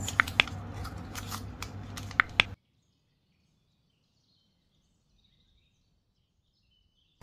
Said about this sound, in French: Et je viens ensuite découper des tronçons.